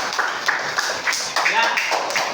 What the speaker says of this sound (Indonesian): Berikan tepuk tangan untuk Kalila.